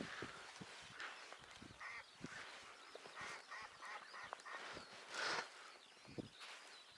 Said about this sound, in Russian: О, утка.